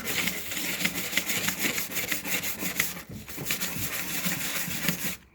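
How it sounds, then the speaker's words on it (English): Mower plastic being scrubbed with cleaner gives rapid, rhythmic rasping strokes, loud and close, continuing steadily before stopping abruptly at the end. "And then all you have to do is you give it a bit of a scrub."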